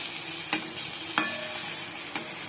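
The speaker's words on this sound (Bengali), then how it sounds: "লাল লাল করে পটলগুলো ভাজছি।" Slices of pointed gourd (potol) frying in a pan for a fish and potato curry give a steady close sizzle, broken by three sharp scrapes of stirring.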